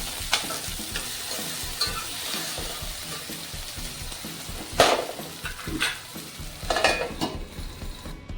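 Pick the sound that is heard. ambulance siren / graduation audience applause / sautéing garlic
sautéing garlic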